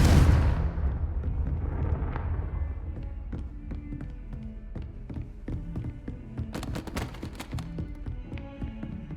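A Confringo spell explosion in a Harry Potter video game bursts at the start in a loud booming blast that fades quickly, followed by scattered taps, thuds and short clicks of game effects.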